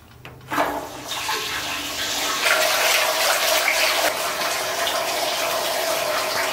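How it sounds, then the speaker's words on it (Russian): Water gushes steadily into a distilling tank after a short initial clatter, a loud continuous rushing pour with a faint resonant hum underneath. "Просто долью порядочно так воды"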